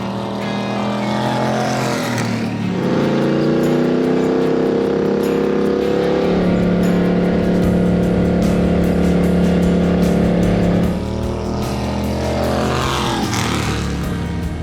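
Restored 1970 race car Snowball, a barn find, driving laps on Wythe Raceway, its engine droning loudly and steadily as it passes close by, pitch rising and falling with throttle, with no one speaking.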